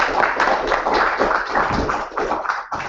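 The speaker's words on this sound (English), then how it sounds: "A round of applause for our friend there." A short burst of clapping for a player at the 2014 British Chess Championship in Aberystwyth, fairly dense and close, holding steady before cutting off abruptly near the end.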